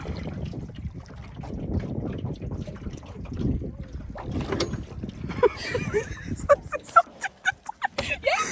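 A boat moves across a lake in the Caucasus with a continuous low wash and wind rumble, followed near the end by sharper knocks and splashes.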